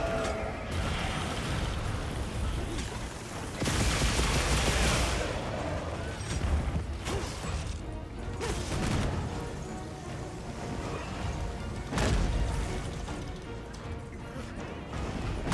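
Gunlance shelling shots and weapon mechanisms in Monster Hunter Wilds ring out as repeated heavy blasts and clanks over a busy, loud combat soundscape, with someone talking throughout.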